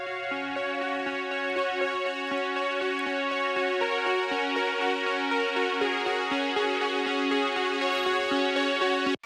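A synthwave synth arpeggio from a song plays alone, with bright, evenly pulsing notes cycling in a steady repeating pattern over sustained tones, clear and continuous throughout.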